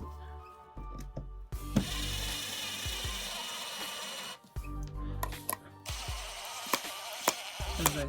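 A Toolman 21V cordless power drill whirs in bursts as it drives a screw, pausing between runs, with clicks, taps and scraping of hand work in a quiet room.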